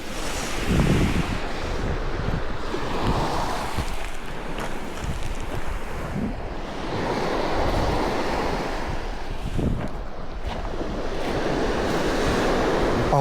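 Ocean waves at the sea roll and crash in a continuous wash of surf, loud and close, with gusty wind buffeting the microphone.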